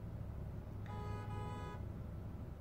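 A single short car horn toot at a gas station, fairly faint against a low steady background of idling traffic and engine hum.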